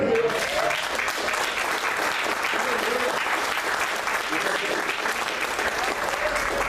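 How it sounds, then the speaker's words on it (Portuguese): Congregation applause during a church service, a sustained dense roar of many hands clapping at steady loudness, with some voices faintly underneath. "eu acho que isso merece um aplauso ao Senhor"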